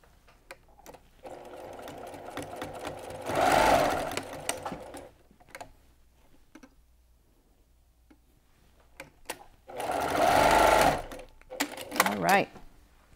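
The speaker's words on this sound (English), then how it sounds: "we're going to top stitch these into place really nice and close to the top edge of the white fleece fabric" A sewing machine top stitches white fleece fabric for a tooth fairy pillow, running in two steady whirring bursts separated by quieter stretches with soft handling clicks and some talk.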